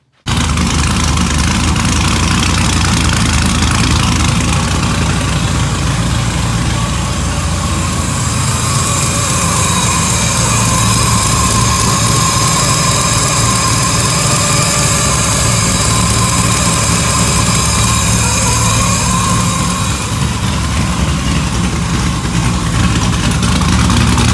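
A car engine fires up and settles into a steady idle while warming to temperature during cooling system work after air was bled from the lines; the loud, continuous running holds evenly throughout with no talking.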